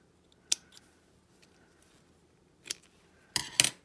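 Scissors snip ribbon ends on a handmade card, giving one crisp cut, a lone snip a couple of seconds later, then two quick close cuts at the end, each sharp against a quiet room.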